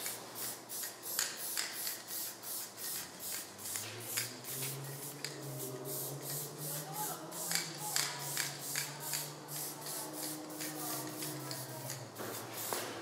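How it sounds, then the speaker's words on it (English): Short bursts of spray paint from an aerosol can over a stencil for a portrait with a speckled background, heard as a rapid series of brief hissing puffs in quick rhythm, close and fairly quiet, with a low musical tone running underneath. "I'm using very short little bursts of the spray, not holding the nozzle down at all."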